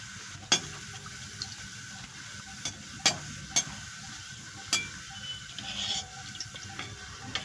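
Food, including papad, frying in oil, a faint steady sizzle broken by several sharp clicks and taps of utensils at irregular intervals.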